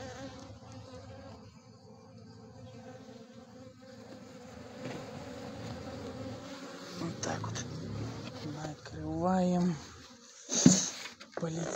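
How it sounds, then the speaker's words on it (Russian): Honey bees buzz around a hive feeder during feeding, a continuous close droning hum rising as they take off, with someone talking over it and some rustling handling sounds. "Полетели пчелки"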